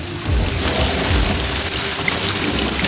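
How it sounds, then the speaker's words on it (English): Heavy rain pouring down outdoors, heard from shelter beneath a rock in an Arizona creek area: a dense, loud, steady hiss and patter with low rumbling throughout. "it's raining like crazy"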